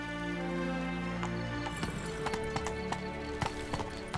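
Horse hooves clip-clopping at a run with a whinny, from The Witcher 3, after a steady low drone; sharp hoof beats strike irregularly and fairly close, with no talking.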